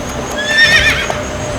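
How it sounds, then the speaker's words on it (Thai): A startled horse rears and neighs in a windy storybook cartoon, giving one brief, clear whinny with a few hoof clops beneath it and no talking. "ม้าของอาบิเกล พยศอย่างรวดเร็วจนทำให้นางตกหลังม้าลงไป"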